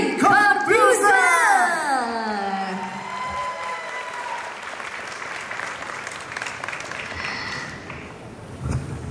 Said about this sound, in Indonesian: Sekali lagi kita berikan aplaus yang paling meriah untuk Master Dedi Corbuzier